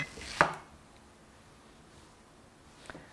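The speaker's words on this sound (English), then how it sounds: "We're going to use only half of the onion, and you chop it this way." A knife chops through half an onion on a cutting board: one crisp, close chop, then quiet, then a second softer chop.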